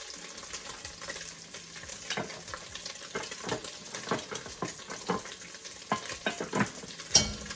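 Vegetables for red beans and rice crackle and sizzle in a hot pan, with frequent uneven bursts of frying and stirring that stay close and fairly loud throughout.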